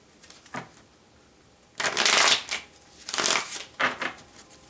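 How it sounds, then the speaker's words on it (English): Tarot cards being shuffled by hand in three or four quick bursts of papery riffling, close and crisp, with brief quiet gaps between them and no talk. "One more shuffle"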